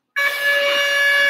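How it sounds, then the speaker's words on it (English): A quiz contest buzzer at a school German spelling bee sounds one steady, loud electronic tone with bright harmonics, starting abruptly and holding without a break. "Shall we check again buzzers one by one"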